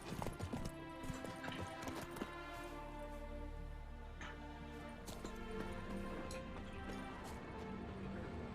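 Roach, Geralt's horse in The Witcher 3, clip-clops along in steady hoofbeats amid busy game ambience and background music, with a faint whinny possible; no one speaks.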